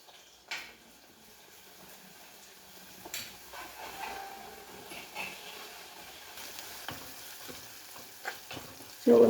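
Shallots with crushed ginger and garlic fry in a pan, giving a steady soft sizzle with occasional stirring scrapes and clinks, fairly close and moderately loud.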